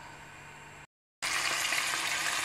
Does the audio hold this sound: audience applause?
no